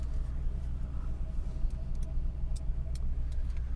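A 1979 Mercedes W126 500 SE with a V8 and its muffler removed idles steadily nearby, a dense, constant low rumble with a slightly shaky, uneven pulse and no talking.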